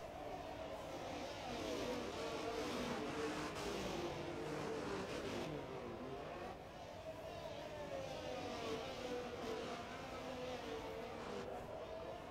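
A racing car accelerates in a racing video game during a race on a Mexico circuit, its engine a steady loud whine with tonal bands that rise and shift as it pulls through the gears, continuous with no pauses.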